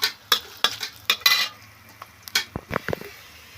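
Dried red chillies, bay leaf and panch phoron five-spice hit hot oil with chopped onion in a pan for fish-head greens, making close crackling spits and clinks of stirring in short bursts, no voices.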